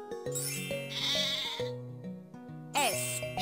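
Sheep bleating in a wavering, drawn-out call, set over a light tinkling musical backing with chime-like notes, and a second short bleat near the end.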